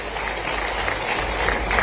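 Sustained applause from the audience at a regional industry conclave in Rewa, steady and fairly loud, a brief unbroken burst of many hands clapping.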